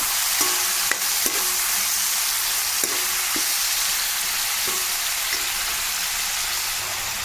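White eggplant pieces fry in a pan with a steady, close sizzle, while a spoon scrapes and clatters through the frying in several sharp stirs. No one speaks.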